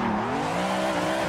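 A Volvo C30 race car in Assetto Corsa drones loud and steady, its engine pitch sliding slowly down and back as it holds a constant roar, with no voices.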